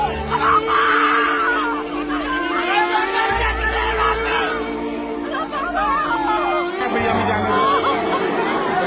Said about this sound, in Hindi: लोग चीख रहे हैं, चिल्ला रहे हैं, बचाने की गुहार लगा रहे हैं